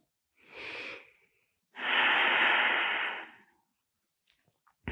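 A person takes two slow, deep breaths during yoga: a softer inhale, then a longer, louder, airy exhale, heard close up and followed by quiet.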